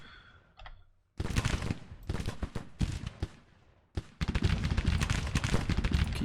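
Musket fire crackles in the Civil War strategy video game Grand Tactician, dense overlapping volleys of rapid shots that start after a second of quiet, pause briefly, then surge back louder and continuous.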